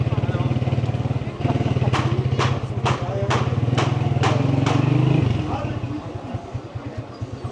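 A motorcycle rides through the old streets of Damascus, its engine chugging close and steady, with sharp repeated pops or clacks partway through and a slower putter as it eases off; someone talks over it.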